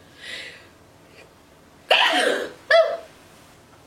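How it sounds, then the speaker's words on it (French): A single sharp sneeze bursts out after a soft breathy intake, followed by a brief second burst, in an otherwise quiet room. "Je vais éternuer."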